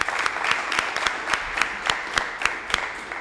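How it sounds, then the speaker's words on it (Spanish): An audience applauds in a steady burst of many hands clapping, with sharp regular claps standing out near the front throughout, at a talk event on the economy. "Aplauso para você mesmo."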